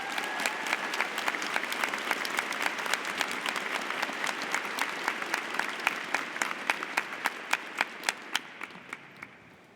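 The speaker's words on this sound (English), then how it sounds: "Please join me in a round of applause to congratulate them all" An audience at a 2015 University of Michigan psychology commencement breaks into dense, sustained applause that thins out toward the end to a handful of sharp individual claps.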